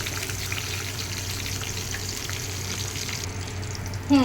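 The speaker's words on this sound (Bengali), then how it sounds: "সমস্ত পটলগুলোকে কিন্তু খুব সুন্দর করে ভেজে নিতে হবে" Steady crackling sizzle of pointed gourd frying in oil over medium-low heat, continuous and close, with a brief clink near the end.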